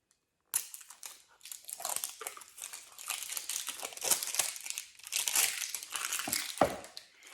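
A roll of tape is unwrapped and opened for a craft project, giving close, fairly quiet crinkling and tearing rustles that run continuously for several seconds with no talking.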